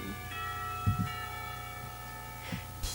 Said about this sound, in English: Not a minute too soon, the lunch bells rang.